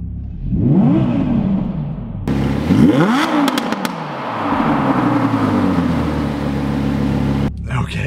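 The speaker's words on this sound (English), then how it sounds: "Let's go ahead and give it a couple revs." A 2020 Audi R8 V10 Performance with its sport exhaust is revved hard a couple of times, each sharp climb and fall roaring up close, then settling into a loud idle rumble before cutting off abruptly.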